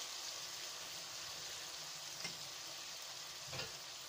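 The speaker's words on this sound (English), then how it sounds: "we are stirring the spices a little bit more" Spices, tomatoes and onions frying in a pan while being stirred for a Bottle Gourd Leaves and Shing fish recipe, a steady soft sizzle with two brief scraping stirs, close and quiet, no voices.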